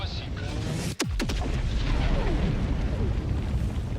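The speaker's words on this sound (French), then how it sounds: "Et ouais, ça c'est de l'explosion." Nuclear bomb detonation in the video game Helldivers 2, a loud sustained roaring rumble with a sharp crack partway through, booming on continuously up close.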